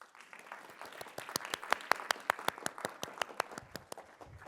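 An audience claps for an equation during a talk about diffusion in Baba Nyonya cuisine, a steady round of applause with many sharp, distinct claps building in the middle and thinning out toward the end.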